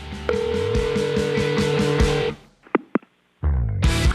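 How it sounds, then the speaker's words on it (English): A voicemail playback sequence with a sustained steady tone over buzzing, pulsing electronic textures, then a few sharp beeps after a cutoff and a burst of noisy sound at the end; no talking. "It's time to check Adam's voicemail."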